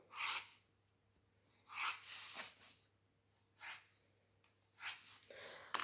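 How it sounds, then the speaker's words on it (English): Pencil lettering capital letters on paper for a graphics drawing exercise, heard as four short, close scratchy bursts of strokes separated by quiet pauses, with no talking. "you're writing in capital letters"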